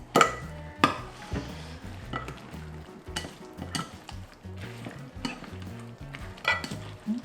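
Wet, squishy hand-mixing of steamed eggplant with seasoning, with soft rhythmic squelches and occasional light clinks of a bowl, close by, with no talking.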